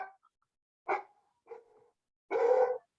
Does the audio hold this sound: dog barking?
yes